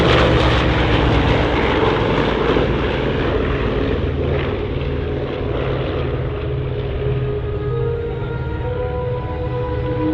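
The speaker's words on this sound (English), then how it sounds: "The Constellation flies again" Lockheed Constellation, the MacArthur Bataan airliner, flying at the 2023 California Capital Airshow, its piston engines and propellers droning loud and steady overhead, alone throughout.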